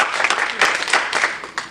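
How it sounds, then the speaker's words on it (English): An audience gives a round of applause for a contestant at a spelling bee: a short, lively burst of many hands clapping, close and fairly loud, with uneven surges and no speech over it. "Round of applause, please."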